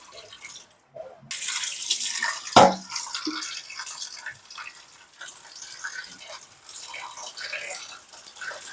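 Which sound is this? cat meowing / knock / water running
water running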